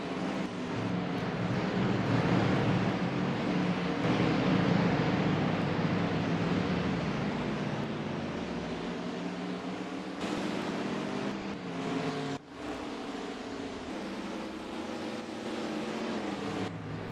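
Several race cars in NASCAR Racing 2003 rumble along pit road at Myrtle Beach, a steady blended engine drone with layered harmonic tones that swell and ease, no talking over it.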